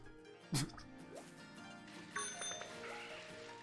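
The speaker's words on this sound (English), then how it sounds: "I keep ringing my bell." A bicycle bell rings inside a Pokémon video game, one bright chime near the start and another ring about halfway through, set against game music with faint background sound.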